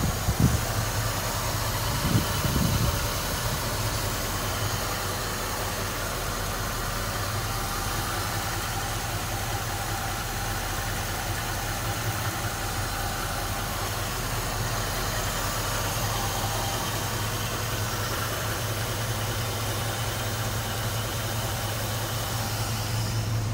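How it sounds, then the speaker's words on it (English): A 1969 Chevrolet Camaro Pace Car engine idles steadily with a low, even rumble and a faint knocking texture, after a brief burst of revving at the start; no voices. "I'm gonna go ahead and crank that engine."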